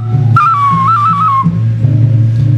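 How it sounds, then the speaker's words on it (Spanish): A glazed clay Mayan whistle from Chiapas gives one clear, sustained tone of about a second that wavers slightly in pitch, standing alone above a steady low rumble. "como estos silbatitos mayas de la zona de Chiapas."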